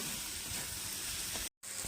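Onion, ginger and garlic sizzle steadily in a hot pan with a continuous frying hiss, broken by a brief silent gap near the end.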